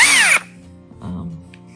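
A rechargeable battery-operated electric power drill lets out a sharp, high whir that winds down within half a second, followed by faint handling thumps.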